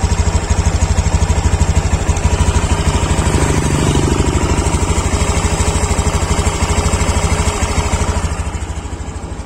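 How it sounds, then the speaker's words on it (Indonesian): A Honda Beat Deluxe scooter engine idles steadily and loudly up close, a normal, even, rapid putter that holds constant before easing slightly at the end. "untuk suara mesinnya seperti ini kalau untuk mesin yang normal."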